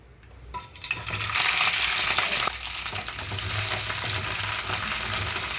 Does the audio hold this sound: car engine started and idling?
no